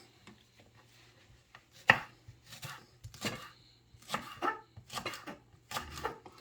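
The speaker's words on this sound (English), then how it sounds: "So I'm now gonna start cutting up my spring onions." A knife chops spring onions on a board in quiet surroundings, with a sharp first cut followed by irregular bursts of close, crisp chops.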